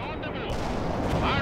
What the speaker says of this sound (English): Anti-tank strike inbound.